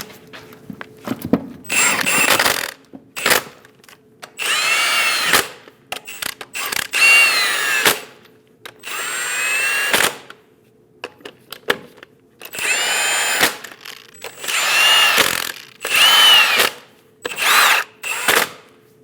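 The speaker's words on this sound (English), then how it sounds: "Snug down all the lug nuts." A power tool runs in repeated whirring, ratcheting bursts with pauses between them as it snugs down wheel lug nuts on a 2001-2006 Chevrolet Silverado during a front upper control arm replacement, loud and close.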